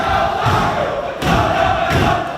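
Crowd noise and chanting with low thumps from Niue High School students performing cultural war dances before gathered family and friends, a loud, continuous mass of voices with heavier surges.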